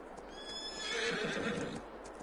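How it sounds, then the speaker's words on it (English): Horses neighing in Farming Simulator 22, a clear whinny rising over soft hoof clip-clops, fairly quiet and heard alone. "Keep forgetting I've got horses."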